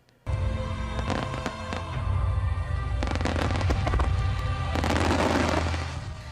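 Fireworks show bursts in a steady loud barrage of booms and crackles, continuous from start to end, growing denser near the close.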